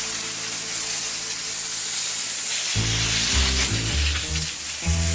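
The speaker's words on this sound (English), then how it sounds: "taking the hose from the backyard actually and brought it right into the basement. So I'm going to go full force here," A garden hose sprays water at full force onto mold in a basement, making a continuous, loud, broad hiss that never lets up, with a low hum joining partway through.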